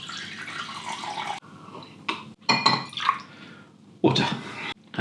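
Water is poured into a clean drinking glass at a drink-tasting session, in short, uneven bursts of splashing broken by brief gaps and light glassy clinks, close and moderately loud.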